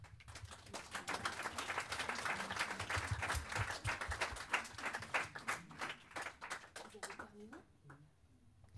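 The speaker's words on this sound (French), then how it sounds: "On va tous les applaudir encore une fois et les inviter à rejoindre leur place." Audience applause for a group of participants at a civic gathering, a dense sustained patter of many hands that swells, then thins and fades out near the end.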